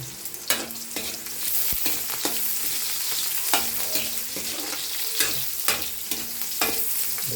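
Dinuguan stirred in a frying pan, a steady sizzle with repeated scraping strokes of the spoon against the pan at an irregular rhythm, close and alone with no voices.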